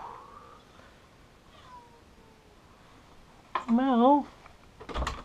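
A cat gives one loud, wavering meow close by after quiet background, followed by a short noisy thump.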